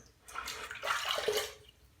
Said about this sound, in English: let's rinse off here.